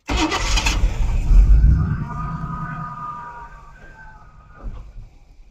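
Chevrolet Squarebody service truck engine catching and revving briefly, then settling into a rough, fading idle for a few seconds, close by with faint voices.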